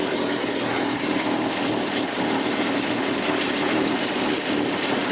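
A 1936 International truck engine idles steadily, a loud, rough, continuous rumble close by with no pauses and no voices.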